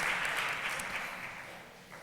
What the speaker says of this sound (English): So shall we please give a round of applause